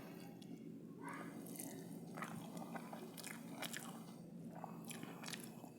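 Rice mixed with dal and fish curry is eaten by hand up close, giving soft, wet squishing and crunchy bites in an irregular rhythm, quiet and without speech.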